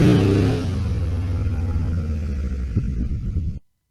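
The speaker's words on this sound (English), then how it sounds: "I just give a throttle, release slowly the clutch, and keep attention for the rear wheel traction" An adventure motorbike engine is throttled on a short, steep off-road uphill climb, a loud close rumbling rev that holds steadily for a few seconds before cutting off abruptly.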